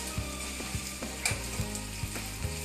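Beef steak frying in hot olive oil, a steady crackling sizzle with a low hum, broken by soft regular taps or scrapes roughly every half second.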